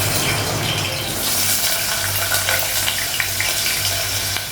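Green chillies and pointed gourd fry in hot oil on a gas stove, a steady close sizzle with soft stirring clinks running through.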